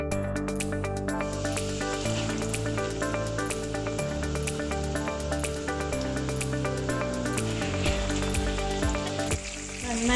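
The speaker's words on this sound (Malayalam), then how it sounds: "നമുക്കൊന്ന് ഫ്രൈ ചെയ്തെടുക്കാം." Chicken pieces sizzle and crackle steadily in hot oil for a crispy, spicy KFC-style fry, a loud continuous hiss close up with no talking.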